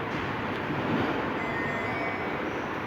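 The Karaköy–Beyoğlu funicular metro in Istanbul rumbles steadily with a continuous low roar and faint rail hiss, heard from inside or close by, no voices.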